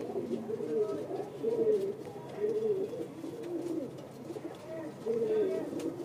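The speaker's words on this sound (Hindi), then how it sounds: "ये कबूतर भी बहुत पसंद आया भाई मेरे को।" A pigeon, a highflyer kept by a fancier, cooing in repeated soft, rolling phrases at a close but gentle level, with quiet background noise between the calls.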